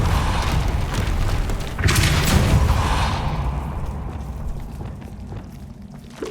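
Incendio fire spell cast in Hogwarts Legacy, a loud roaring whoosh of flame with a deep booming burst that swells and then slowly fades into a low rumble, no talking.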